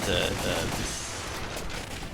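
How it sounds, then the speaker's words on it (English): Cannon fire in the 1995 Namco arcade shooter Time Crisis, a loud burst of booming gunfire that rolls into a dense, sustained clatter of explosions and mechanical noise throughout. "watch out, these cannons are gonna shoot at you"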